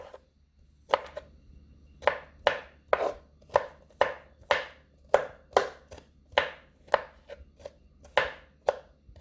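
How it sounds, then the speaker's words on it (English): Garlic is minced with a knife on a cutting board: about a dozen crisp, close chopping strikes in a fairly regular rhythm, separated by brief quiet gaps. "Mincing up my garlic."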